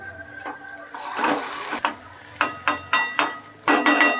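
Onion sautéing in a pan, a continuous close sizzle broken by a regular series of sharp scraping stirs of the spatula against the pan, with no voices.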